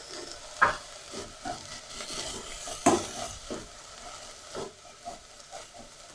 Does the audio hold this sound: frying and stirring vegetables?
yes